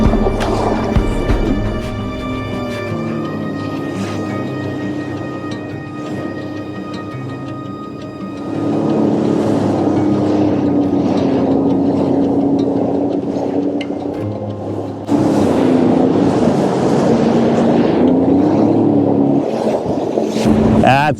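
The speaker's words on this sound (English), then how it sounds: "The water is now hitting at certain angles and just splashing over the top of the Seadoo and up on me." A Sea-Doo personal watercraft runs across choppy, cross-chopped Toronto Harbour water: a steady engine drone that swells louder in stages, with water slapping and splashing over the hull.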